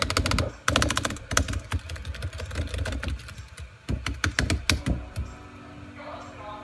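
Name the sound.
computer keyboard keys pressed rapidly to skip a cutscene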